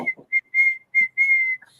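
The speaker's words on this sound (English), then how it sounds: "he come whistling down that street" A man whistles a short tune in a street scene from a TV drama, bright sustained notes broken into several phrases, close and clear with a faint low voice or noise at the start.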